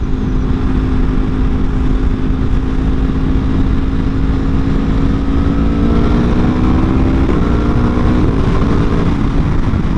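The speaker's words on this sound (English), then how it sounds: "those pops every time you shift are something else" A Yamaha R1 motorcycle riding steadily, its engine droning loud and close throughout, with pitch sweeps as gears change near the end; the crisp exhaust pops on shifts are not clearly separable beneath the continuous engine and wind noise.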